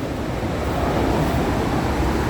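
Ocean surf rolls at a beach in a steady, continuous roar, mixed with gusty wind buffeting the microphone and no voices.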